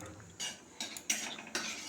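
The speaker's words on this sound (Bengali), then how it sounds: "ঘিটা একবার নেড়ে নেব।" A spoon stirs hot ghee in a pan before vermicelli is fried, giving several scraping, clinking strokes at an irregular pace, close and fairly loud with no talking.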